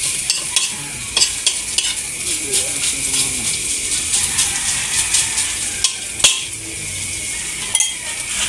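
Onion and garlic stir-fried in a hot pan for homemade siomai fried rice, a steady loud sizzle with a spatula scraping and clinking against the pan, close up.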